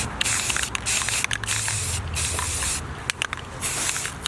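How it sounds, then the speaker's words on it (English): White spray paint hisses onto a Nike Air Max 720 sneaker in a series of close, loud bursts of varying length, with brief pauses between each pass of the can. "I'm about to spray paint this real quick"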